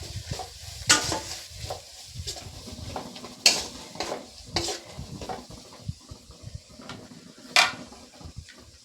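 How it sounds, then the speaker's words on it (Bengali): Ground chilli, cumin and coriander powders stir-fried over low heat make a faint sizzle beneath repeated scrapes and sharp metallic clinks of a spatula against the pan, close by and with no talk. "ধনে গুঁড়ো দিয়ে মশলাটাকে একটু আঁচটাকে কমিয়ে কষিয়ে নেব।"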